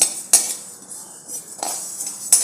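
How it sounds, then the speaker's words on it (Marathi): Metal spoon scrapes and clinks against a hot iron pan while seeds are stirred, a few sharp strikes separated by quieter rasping strokes, close by. "फक्त असं ह्या गरम कढईत हलवायचं"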